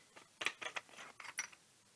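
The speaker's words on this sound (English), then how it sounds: "so we will unscrew the bottom of the hilt." Small plastic parts of a 2021 Hasbro Black Series Force FX Elite Ahsoka Tano lightsaber hilt clicking and rattling as its bottom is unscrewed, a quick run of faint close taps and scrapes with no talk.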